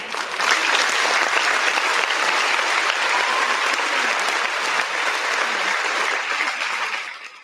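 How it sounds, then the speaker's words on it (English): A large crowd applauds in a dense, steady roar of clapping that holds evenly for about seven seconds before tapering off at the end, with no talking over it. "Round of applause to everybody out there in the chat."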